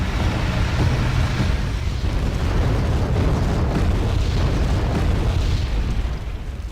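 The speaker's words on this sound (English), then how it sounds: "Some short-range artillery barrages from our BMs." Short-range artillery barrages in Wargame Red Dragon pound continuously, with dense, rumbling explosions overlapping into a loud, sustained roar and no talking.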